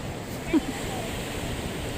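Sea surf at night on the coast at Real, Quezon, a soft, constant wash of waves with a faint wind-like hiss, even and fairly distant, broken by one brief small bump.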